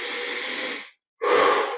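Deep breaths during a guided meditation: a long, close, airy inhale, a brief silence, then another strong breath, heard alone without any talking.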